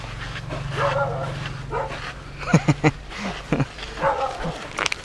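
A dog gives several short, sharp barks and yips close by, mixed with whimpering and background chatter.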